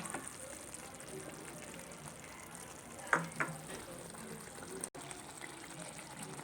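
Butter melts into a frying paneer masala, a soft steady sizzle with faint bubbling close by, broken by a couple of brief clinks and a short dropout.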